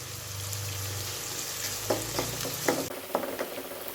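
Onions frying in a pan for a jackfruit seed masala, a steady close sizzle with a few sharp stirring scrapes and clicks toward the end, no voices.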